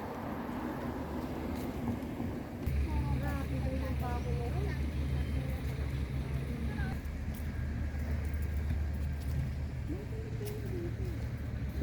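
Many cars drive by on a seaside road, a steady low rumble of engines and traffic that grows louder midway, with people chatting and calling out over it.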